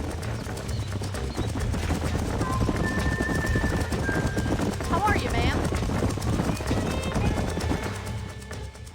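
Several horses trot in Red Dead Redemption, a steady clip-clop of hooves on dirt with an occasional whinny, while someone speaks over them in a quiet ranch setting.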